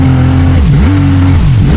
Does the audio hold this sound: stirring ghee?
no